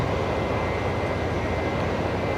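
A Boeing 737-800 freighter operated by Texel Air landing on runway 01 right at Brisbane Airport at night: a steady, loud, broadband jet roar that holds constant throughout, with no talking.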